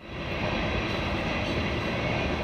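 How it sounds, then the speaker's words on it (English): A freight train rolls through the town of Hereford, Texas, a steady loud rumble and roar that holds at an even level for the whole stretch, close by and with no voices. "a freight train travels through or stops in town every 18 to 22 minutes"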